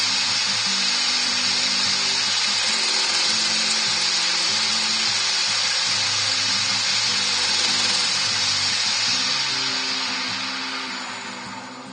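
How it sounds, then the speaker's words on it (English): A wood lathe spins at high speed while buffing a turned wooden bowl, giving a steady, loud whirring hum that holds evenly, then fades toward the end, with no talking. "And then crank up the lathe speed. To give it a buff."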